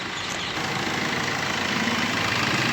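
A 2013 Tata Vista LS Quadrajet diesel car idling: a steady, loud, close engine drone that stays even throughout, with no talk.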